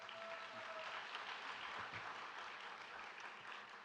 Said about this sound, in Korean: 우리 뜨겁게 환영의 박수 하겠습니다.